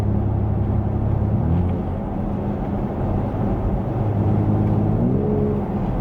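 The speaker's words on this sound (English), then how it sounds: "So we downshifted the gear there, gave a little acceleration." A 2020 BMW X3M downshifts and accelerates, heard from inside the cabin: a low engine rumble dips, then climbs again in pitch as the SUV pulls away.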